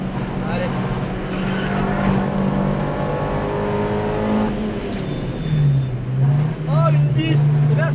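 Car driving a lap at a motor festival in Vaison, heard from inside as the engine drones and shifts pitch under ongoing talk.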